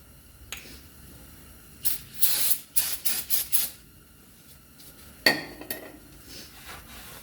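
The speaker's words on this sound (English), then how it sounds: "I'm gonna go ahead and spray the back of it with some brake part cleaner and clean it off." Short bursts of brake parts cleaner are sprayed from an aerosol can onto the back of a brake rotor during a Mercedes ML350 brake job, several close hissy blasts in a quick cluster followed by one later spray.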